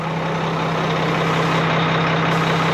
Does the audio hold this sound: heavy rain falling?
no